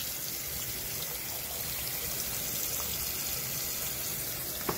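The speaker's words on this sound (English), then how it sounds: "turn off your water." Tap water runs continuously from a faucet while a 3M or cotton face mask is rinsed in a sink, a steady hissing splash at moderate level with no talking.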